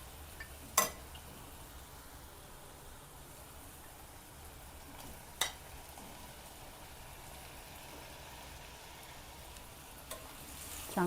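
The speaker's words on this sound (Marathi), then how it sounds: "आपण आता हे केळीचे काप केलेले आहेत ते टाकून घेऊया आपण" Raw banana slices fry with spices in a pan on low heat, giving a faint, steady sizzle with a few sharp spoon or utensil clinks over it and no talking.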